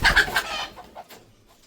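Chickens running off in fright, sounding a burst of loud, close, rapid clucks and squawks that quickly fade into a few scattered, fainter clucks.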